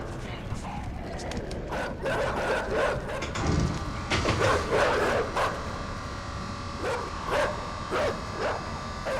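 Dogs in the game INSIDE bark in scattered clusters over a low rumbling backdrop, moderately loud, with pauses between bursts.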